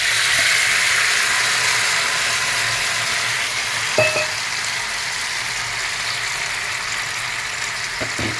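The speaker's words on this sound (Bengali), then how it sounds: "কড়াতে তেল দিয়ে 5 ফোড়ন দিয়ে সেদ্ধ করে রাখা আমটা দিয়ে দিচ্ছি" Boiled mango hitting hot oil and five-spice in a wok gives a loud steady sizzle and crackle, with a couple of sharp metal clinks from stirring near the middle and end.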